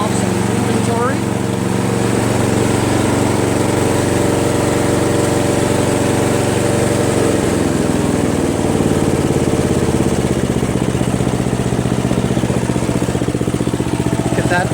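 A Craftsman push mower with a 158cc Briggs engine, missing its throttle spring, idles with a steady, close, continuous putter, its pitch dipping briefly partway through.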